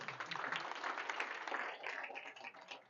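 An audience claps hands in steady, dense applause at a visit to COCOBOD in Kumasi, fairly distant and even throughout.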